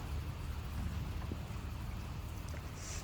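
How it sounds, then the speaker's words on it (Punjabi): Steady rain falls as a soft, even hiss, faint and continuous with no voices. "ਬਹੁਤ ਵਧੀਆ ਮੌਸਮ ਅੱਜ ਮੀਂਹ ਪੈ ਰਿਹਾ"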